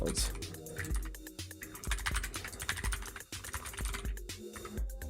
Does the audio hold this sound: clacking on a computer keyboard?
yes